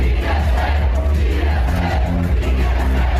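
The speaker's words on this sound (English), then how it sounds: "the crowd chanting DSA" A large crowd chants in unison at a political rally, loud rhythmic massed voices repeating a short slogan with dance music thumping underneath.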